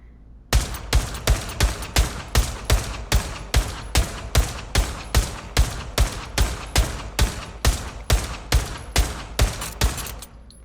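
A Tec-9 pistol fired in the virtual reality shooter Pavlov VR, roughly two dozen loud, sharp shots in a steady, evenly spaced rhythm, close and alone, followed by a brief mechanical click at the end.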